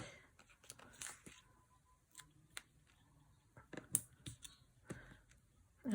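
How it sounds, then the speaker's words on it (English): Scissors snip the ends off pull tab cards in a series of small sharp clicks and crisp cuts, quiet and irregular, with occasional soft handling rustle. "I just cut down the ends and use them"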